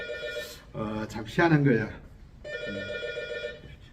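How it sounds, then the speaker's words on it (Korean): A telephone rings in a loud, steady electronic tone, sounding twice with a pause between, while someone talks over and between the rings. "꼭 그렇게 강론을 하면 전화가 와요."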